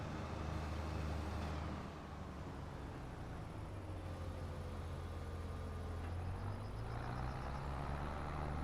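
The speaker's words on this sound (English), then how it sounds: "I like the sound of this truck" A truck engine in Farming Simulator 25 gives a steady low rumble throughout, with a short pause around the second mark, then runs on with a faint rising whine. No one speaks.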